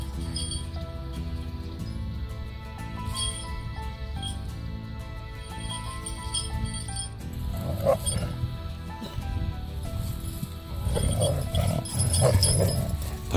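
Several dogs on a farm bark, yip and whimper intermittently over a steady background hum, growing more active and louder toward the end.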